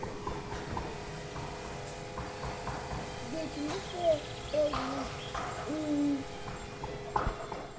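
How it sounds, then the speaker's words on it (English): Outdoor birdsong, including hooting and cooing calls, rises in short phrases over a low ambient background, with a few faint, distant knocks that could be a man banging on wood somewhere off in the distance. "That was the sound of some birds and a man somewhere banging on some wood."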